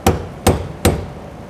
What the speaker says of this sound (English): you can use a brass punch to prevent sparks, and a hammer